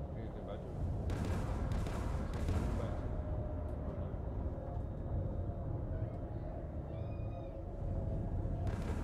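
A pet cat lets out one brief, soft meow partway through, over a continuous backdrop of game noise with a few muffled booms.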